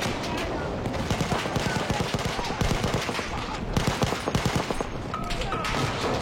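MG15 machine gun firing in a video game battle: loud, rapid automatic bursts crackle densely and continuously for several seconds, thick with overlapping shots and little pause between them.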